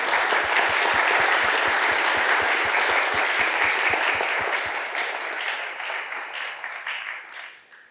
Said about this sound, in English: Please join me in a round of applause for Professor Nye and Akita-san